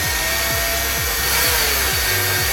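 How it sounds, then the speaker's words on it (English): A power drill whines steadily while boring pilot holes into wooden pieces for a DIY laptop stand, with a loud continuous motor drone and a pulsing low rhythm. "We're then going to drill some pilot holes into these pieces so when the screws go through they don't strip the wood."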